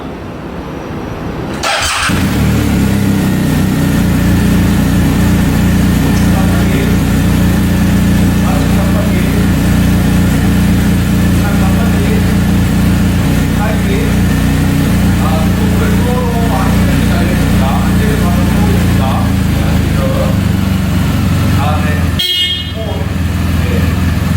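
A 2020 BMW R1250GS motorcycle with 12,909 km fires up with a sharp start, then settles into a loud, steady, close idle that drones on before a brief dip near the end.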